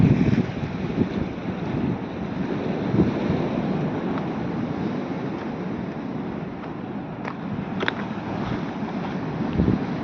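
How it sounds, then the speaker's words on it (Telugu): Boat at sea off Bapatla district's Karlapalem coast, with steady broadband wind and surging waves filling the whole stretch; engine sound is blended into the continuous roar rather than standing out, no voices. "ఆల్రెడీ బోటు స్టార్ట్ అయింది అనుకుంటాను. వాగులు పైకెళ్ళ లేస్తున్నాయి."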